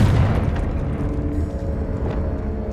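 A Confringo spell explosion in Hogwarts Legacy: a loud, deep rumbling boom with a heavy low-end roar that stays dense and sustained throughout, with no voices over it.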